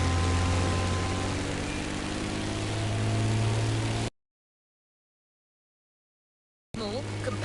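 Granville GPR Super Sportster propeller plane flying low over downtown Honolulu in The Crew Motor Fest, a loud steady engine drone that cuts to silence and then returns.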